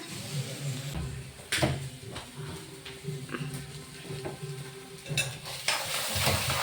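Food frying in a pan while it is stirred at home, with a steady sizzle under repeated scraping and clattering strokes of a spoon, plus a few louder knocks. Nobody speaks over it.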